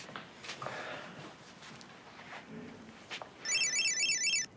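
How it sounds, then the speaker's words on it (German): A telephone rings in a German soap opera scene, its bright electronic warbling tone starting near the end after a quiet room with faint movement and breathing, loud and close. "Dana, Telefon"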